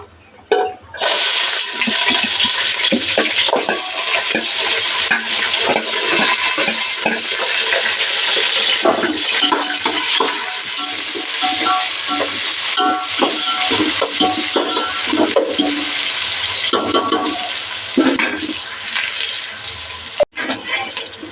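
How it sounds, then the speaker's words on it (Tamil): Onions and a bay leaf fry in hot oil in a pan, a loud continuous sizzle with scattered crackles and stirring scrapes, a sharp clank near the end; no talk. "பிரிஞ்சேலை வெங்காயம் போட்டுடலாம்"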